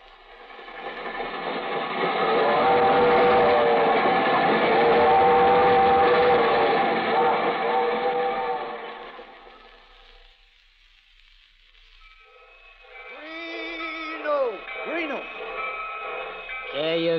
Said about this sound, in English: The Albany Special leaving on track 6.